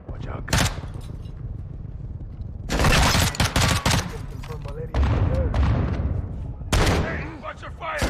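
Bursts of automatic gunfire in Call of Duty: Modern Warfare 2, loud and close, with a short salvo early and heavy sustained volleys around the middle and end, over continuous battlefield ambience and game voices.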